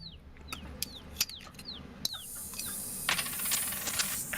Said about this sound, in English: I have a cacophony of birds.